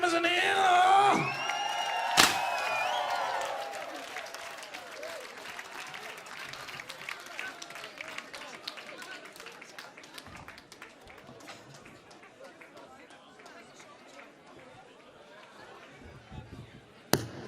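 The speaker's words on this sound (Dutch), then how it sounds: "Mag ik nog even een dames applaus van deze band, dames en heren?" Audience applause for a band at the Liet 2019 song contest final, a broad wash of clapping and a few whoops that starts loud and thins out over the clip, with an announcer's voice heard briefly at the start.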